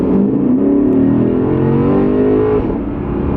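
A 2020 Lexus RC F Track Edition accelerates hard, its engine note climbing steadily in pitch as a loud, continuous roar with no talking.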